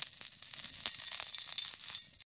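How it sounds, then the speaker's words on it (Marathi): Oil sizzling steadily on a hot iron griddle for a dhapate flatbread, a close, continuous crackle with scattered pops, ending abruptly. "तवा आहे की नाही असा चांगला तापून घ्यायचा आणि मग याच्यावर तेल सोडायचं."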